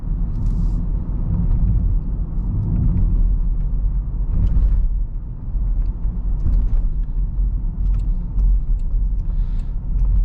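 Steady low road rumble and engine drone inside a 2022 Land Rover Defender SE X-Dynamic driving a bumpy, curvy New England back road with elevation changes, with occasional small knocks and thumps over the uneven surface.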